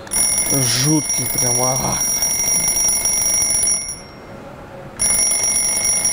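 A pink IKEA mechanical alarm clock rings with a small hammer striking its bell, giving a loud continuous metallic clatter that cuts off briefly and then resumes, while a person speaks and vocalizes over it.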